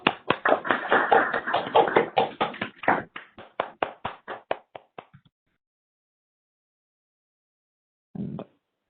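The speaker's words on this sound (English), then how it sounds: "applause." Sparse applause from a few participants in an online meeting, irregular claps that quickly thin out and stop, then one brief soft burst after a pause.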